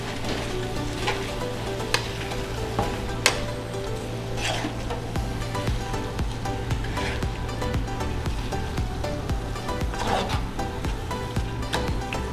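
Tatsoi and spinach sizzle and fry steadily in a hot pan, with occasional scrapes and light clinks of a utensil stirring, close and continuous.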